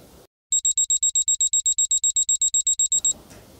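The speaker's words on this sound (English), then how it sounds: "Timer went off." A kitchen timer sounds while eggs boil on the stove: a rapid series of about twenty identical high electronic beeps in a steady rhythm, loud and close, starting after a brief silence and stopping abruptly over faint background noise.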